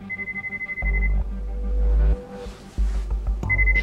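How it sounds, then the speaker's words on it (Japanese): A phone rings in the video game Lost Judgment, starting with a rapid pulsing electronic buzz and then giving way to sustained low synthetic drones and tones. "今度は普通に電話かかってきた。"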